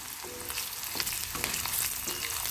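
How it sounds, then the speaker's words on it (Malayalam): Chopped onion fries in hot oil after mustard seeds have spluttered, a soft, steady sizzle with occasional stirring scrapes, close but fairly quiet, no voices. "ഇനി കടുക് പൊട്ടി സവാള ഇടാം."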